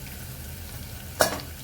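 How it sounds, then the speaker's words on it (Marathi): Ginger garlic paste drops into a hot pan with a sudden sizzle that flares briefly and fades, standing out above a steady low kitchen hum. "यामध्ये आलं लसूण पेस्ट टाकणार आहे"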